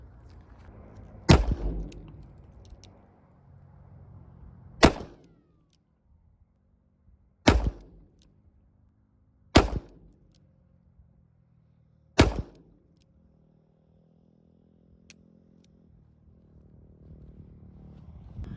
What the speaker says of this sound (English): Now we got 5 of the same round being shot out of a 357 mag, and it's got a 4-inch barrel.